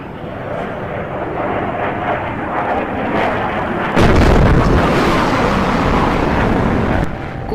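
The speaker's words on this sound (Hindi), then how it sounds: "जोधपुर के आकाश में अचानक एक जबरदस्त धमाका सुनाई देता है" A mysterious loud boom in the sky over Jodhpur in December 2012: a broad, heavy roar that swells abruptly about halfway through and then rumbles on steadily before easing off, with no speech.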